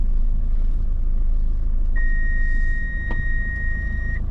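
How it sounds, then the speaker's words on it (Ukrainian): A steady electronic warning beep from a vehicle holds for about two seconds over a constant low engine rumble, with a brief click partway through. "Чё пищить?"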